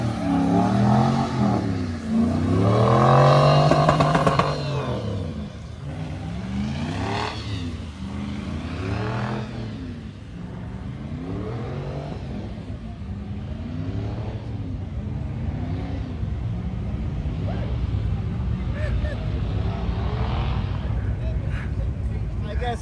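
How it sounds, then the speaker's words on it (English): A truck does a whole-track burnout at a Carolina Drag Cruise drag race, its engine revving and rising in long sweeping pitches, loud at first, then holding a sustained distant roar under crowd and voices. "I guess he was deciding to do a whole track burnout just for giggles."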